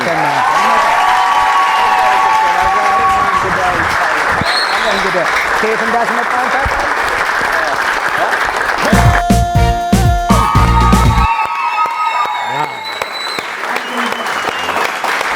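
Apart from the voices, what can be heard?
warm applause welcoming TV show guests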